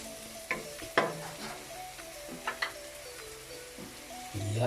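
Shrimp paste (alamang) sizzling in a pan as it is added and stirred for Bicol Express, a soft steady fry with a few sharp scrapes and clinks, fairly quiet with no talk.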